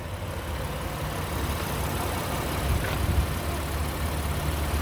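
A 2017 Honda Ridgeline Black Edition AWD pickup idles with a quiet, steady low rumble that swells slightly toward the end, with no talk over it.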